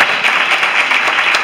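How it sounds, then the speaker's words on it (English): Audience applause at a church reception for a couple, steady dense clapping from a crowd filling the room, loud and continuous throughout. "give the children a good round of applause"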